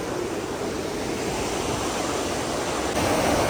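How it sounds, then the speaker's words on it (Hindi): A strong mountain stream rushes steadily on a cold, rainy, windy trail, a dense, loud and continuous roar of flowing water with no pauses. "पानी का बहाव तो बहुत ज़्यादा"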